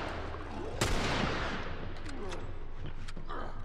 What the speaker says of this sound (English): A shot with the rifle!